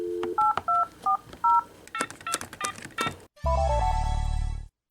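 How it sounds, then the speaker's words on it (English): Startup chime of a 2002 Sony Vaio PCG-FXA53 laptop: a quick run of clean dual-tone beeps much like phone keypad dialing, followed by a brief busier electronic flourish and a final sustained bright chord that cuts off. "the Vaio startup sound, sounding very similar to the DTMF tones when you type Vaio on a phone"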